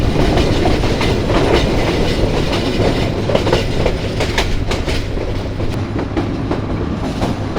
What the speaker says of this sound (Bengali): ওই যে আমাদের ট্রেন ঢুকে গেল পাহাড়ের মধ্যে।